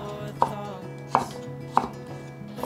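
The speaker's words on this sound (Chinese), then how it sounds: "把番茄切小丁，尽量切碎一点。" A knife dices a tomato on a cutting board for a vegan mushroom dish: four crisp, evenly spaced chops land about every two-thirds of a second, close and clear, with quiet gaps between them.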